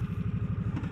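A 2022 Harley-Davidson Nightster 975 motorcycle idles while being backed up, its engine giving a close, loud, lumpy low throb with a steady pulsing rhythm and no talking.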